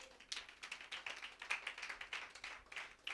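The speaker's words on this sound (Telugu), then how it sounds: "గట్టిగా చప్పట్లు కొట్టండి" An audience at a church sermon claps together in a rapid, steady stream of hand claps, fairly faint and without talk.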